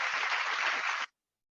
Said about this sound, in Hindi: इनके लिए भी जोरदार तालियां होने चाहिए फ्रेंड्स